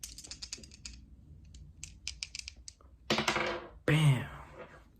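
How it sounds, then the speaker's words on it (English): Quick clicking rattles of small hard objects shaken together, followed by a louder clattering tumble and a bright ringing knock near the end. "just go out with your friend, you go, start shaking some dice"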